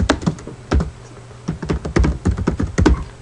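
Keys clatter on a computer keyboard in quick, uneven bursts of close, crisp taps, typing heard alone without any voices.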